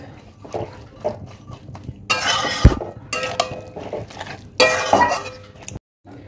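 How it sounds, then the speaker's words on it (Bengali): Curry is stirred in a cooking pot, with a spoon clattering and scraping against the metal in two louder bursts among softer clinks, up close. "এবার আমি এটা ভালো করে আবারও নেড়ে চেড়ে নেবো"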